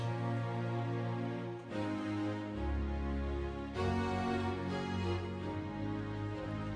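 A layered string ensemble patch on a Korg Pa5X keyboard plays sustained chords, full and smooth, with a soft attack and a change of harmony partway through. No voices.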